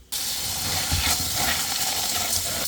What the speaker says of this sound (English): Make sure the beans look good, and we're going to give them a good rinse.